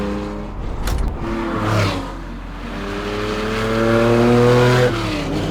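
A Theon Design ITA001 Porsche 911 accelerates nearby, its engine note climbing steadily through the revs in one long pull, then briefly easing and rising again, loud and clear with no talking.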